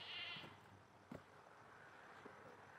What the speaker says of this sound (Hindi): सामने ये बकरी की आवाज़ आ रही।